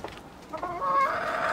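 A rooster crows nearby in a farmyard, a rising drawn-out call that swells and holds loud toward the end, with no talk over it.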